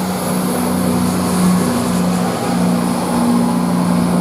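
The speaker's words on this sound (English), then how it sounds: "Now this is Midlands Railway now departing now to Liverpool Line Street" An East Midlands Railway train departing toward Liverpool Lime Street, a steady loud diesel engine drone with a low humming tone, heard continuously from close by without talk.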